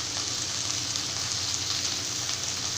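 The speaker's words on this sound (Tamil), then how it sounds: "இப்போ வந்து கத்திரிக்காய், வெங்காயம் எல்லாமே சேர்த்துட்டு நல்லா இந்த மாதிரி வதக்கிக்கணும்" Brinjal and onion sautéing in hot oil in a pan for a Tamil kathirikai masala kulambu, giving a steady, close, continuous sizzle and crackle with no talk over it.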